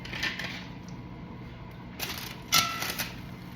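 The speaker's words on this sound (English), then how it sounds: "3 ice cubes each side." Ice cubes, three on each side, are dropped into a hot baking pot with bread dough, giving hard clinks and clatters in a few quick bursts against a steady hiss.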